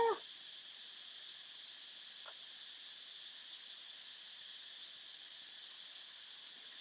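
Cicadas in trees beside a pool keep up a steady, high, continuous buzzing drone that stays even and fairly faint throughout, with a brief soft sound at the very start and no voices.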